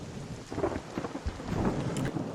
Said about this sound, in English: I guess lightning strikes, it gives a little electrical discharge, which then drew the attention of a drone.